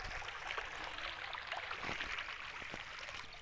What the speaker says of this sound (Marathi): खाळा खाळा खाळा वाहतंय पावसाचं पाणी आहे